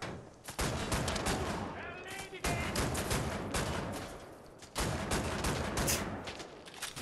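Rapid bursts of gunfire from the shooter game Wolfenstein crackle through most of the stretch, dense and loud, with brief pauses between volleys and voices talking over the shooting.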